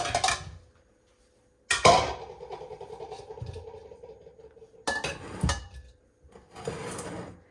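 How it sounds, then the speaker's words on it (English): Seasoned meat for Cuban ropa vieja is handled into a bowl, with scattered clinks and knocks of dishware and utensils and brief quiet gaps between clusters. "I'm gonna put it in a bowl."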